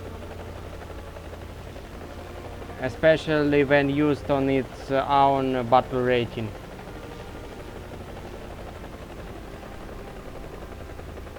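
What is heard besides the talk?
Mi-4AV helicopter rotor in video game War Thunder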